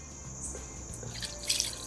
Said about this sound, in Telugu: ఈ రోట్లో కొన్ని నీళ్లు పోసి